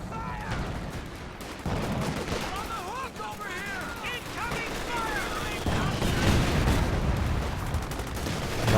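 Tank main-gun fire and scattered small-arms bursts from a Company of Heroes 2 battle, with booming shots and rattling gunfire mixed through a continuous game soundscape while a voice commentates over it.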